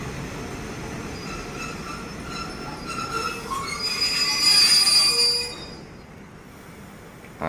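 A train at Ban Pong railway station on Thailand's southern line in the afternoon, its wheels squealing loudly and steadily as the cars roll past, then easing away.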